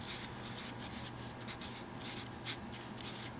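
Marker or chalk writing on a board during a logarithms lesson, quiet repeated short scratching strokes heard close, with no talk.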